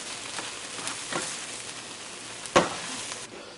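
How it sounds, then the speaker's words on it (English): A spoon stirring pork and cornbread stuffing in a skillet, giving a soft continuous sizzle and scraping with one louder clack of the utensil against the pan, close and with no talking. "I'm going to blend this all together well"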